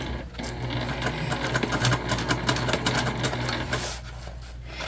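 A sewing machine stitches a backpack organizer in a steady, fast mechanical whir with rapid needle clatter, running continuously and close up, easing slightly near the end.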